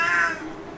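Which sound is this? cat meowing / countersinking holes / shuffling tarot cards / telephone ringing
cat meowing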